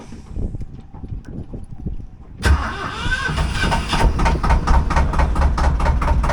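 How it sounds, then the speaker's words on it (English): An engine cranks briefly with a rhythmic starter whirr, then catches and settles into a loud, steady rumbling idle close by, with no talk over it. "So in theory, if I start the engine,"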